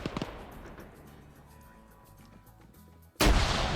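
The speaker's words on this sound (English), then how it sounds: "That's a frag." A frag grenade detonates in a competitive multiplayer shooter match, a sudden loud broadband blast near the end that holds as a sustained roar after quieter background game sounds.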